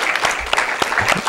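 Audience applause for a band at a Christian gathering, a steady, dense clapping crowd heard close and fairly loud throughout.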